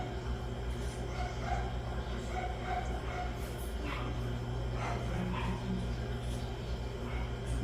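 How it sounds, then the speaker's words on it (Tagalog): Several neighbourhood dogs bark and yip in the background of a home setting in a provincial area, faint and intermittent under a steady low hum, with a voice talking over them. "Medyo marami nga lang ang aso dito sa kapitbahay namin"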